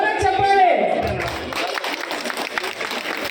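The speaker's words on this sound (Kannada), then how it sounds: "ಜೋರ ಚಪ್ಪಾಳೆ." An audience at a Kannada community association event breaks into loud, sustained applause with some cheering, and a voice carries over the start.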